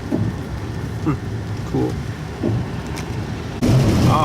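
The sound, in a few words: rain mixed with snow falling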